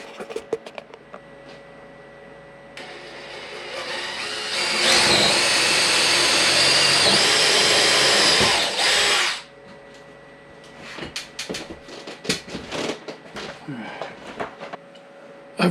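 A power drill bores holes to mount a sliding barn door rail in an off-grid cabin, a loud steady whine lasting about five seconds up close, with handling knocks and clatter before and after.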